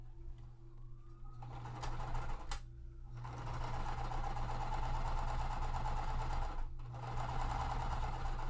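A sewing machine stitches fabric pieces in a continuous fast mechanical chatter with brief pauses, over a steady low background hum.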